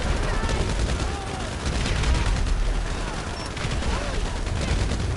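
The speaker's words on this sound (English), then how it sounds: "I'm getting shot. They're shooting above the trash can." Dense gunfire from GTA Online rattles continuously in rapid bursts and volleys throughout, loud and close, with a few faint voices buried under the shooting.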